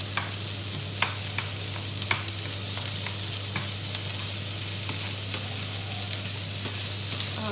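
Beef sizzles and crackles steadily as it shallow-fries in hot oil, with occasional sharper pops and a low constant hum underneath; no one speaks.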